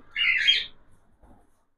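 A cockatiel chick gives a single close, harsh squawking call lasting about half a second, followed by a faint rustle and then silence.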